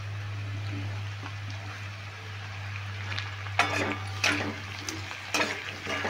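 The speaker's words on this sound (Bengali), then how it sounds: "টমেটোটা দিয়েও আমি 1 মিনিট মতন ভেজে নিচ্ছি।" Chopped tomato fries with kohlrabi in a pan, a faint soft sizzle under a low steady hum, broken later by a few louder scraping stirs of a spatula.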